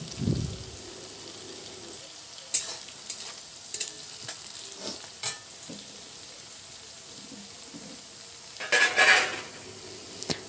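Sliced onions frying with turmeric in a pan for a jackfruit recipe, a soft sizzle broken by sharp scrapes and clinks of a spoon stirring against the metal, with a louder stir near the end.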